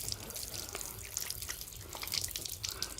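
Water splashes and trickles as bare feet are washed one after the other during wudu ablution, a faint, close, irregular dripping with no talking.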